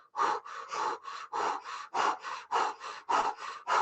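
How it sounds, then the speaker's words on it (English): Rapid rhythmic breath of fire in Kundalini yoga, equal inhales and exhales forced through the mouth, heard up close as about a dozen even, sharp puffs in a steady pulse with no talking. "we're going to go into a breath of fire. It's just an equal inhale through the mouth."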